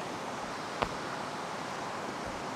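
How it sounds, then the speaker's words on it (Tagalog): Soft, steady rush of flowing stream water at a riverside moto campsite, a continuous gentle wash with a single brief knock partway through. "Sarap ang ganong lagaslas ng tubig"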